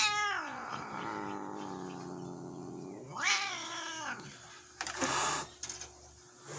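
A tortoiseshell cat growls and caterwauls in long, wavering, rising and falling yowls, close and loud, with short breaks and a scuffling burst near the end.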